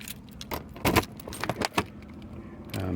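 A bunch of standard 751 compartment keys for a 2021 Bigfoot 10.4 RV jingles in several close, bright metallic bursts over about three seconds, with faint background noise and no voices.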